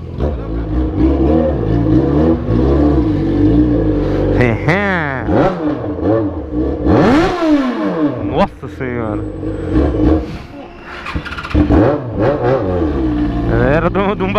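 A Jaguar XJ6 engine revs hard several times, pitch climbing and dropping in loud sweeping bursts, close by, with a brief spoken exclamation.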